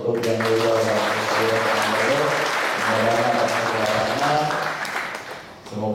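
An audience claps for a venerable speaker at a Buddhist talk, steady dense applause for several seconds that thins out near the end, with voices mixed in.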